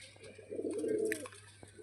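An old-generation Giribaz pigeon gives a single soft, low rolling coo up close, quiet against a faint steady hum.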